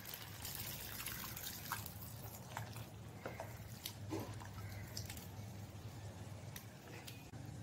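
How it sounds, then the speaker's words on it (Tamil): Coconut milk poured into a pumpkin gravy, a quiet close trickle with scattered small drips and splashes running throughout. "தேங்காய் பால் சேர்க்கலாம்."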